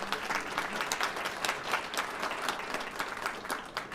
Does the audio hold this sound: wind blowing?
no